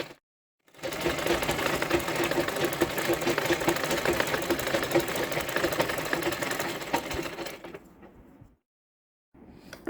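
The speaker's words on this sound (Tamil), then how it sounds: "இப்போ நம்ம தையல் போட ஆரம்பிச்சிடணும்" A sewing machine stitches along a handkerchief edge, a steady fast mechanical whirring and clatter running for several seconds before stopping abruptly, fairly close, with a brief sound resuming at the end.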